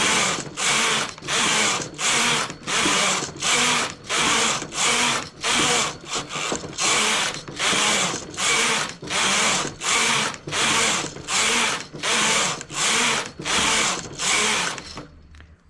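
A hand-operated sock knitting machine works the rows of a sock leg, its carriage sweeping back and forth in a steady, loud rhythm of about sixteen regular whooshing passes that stop near the end, with no talking.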